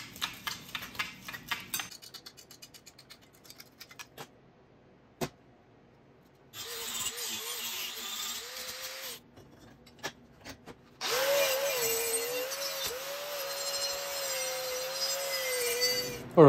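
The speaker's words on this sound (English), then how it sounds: "now we can get rid of this metal here and clean our bracket" A power tool grinding away metal and cleaning a bracket on a 1966 Triumph GT6, with stop-start bursts of harsh whining and a rising and falling motor pitch, long pauses between runs, close and fairly loud.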